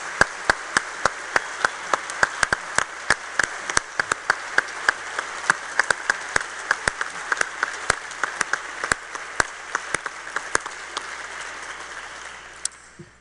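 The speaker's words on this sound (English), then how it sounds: "Let's please give Howard Gardner one more round of applause." Audience applause closing an evening prize symposium: sparse, distinct claps at an irregular rhythm, fairly close, thinning out toward the end.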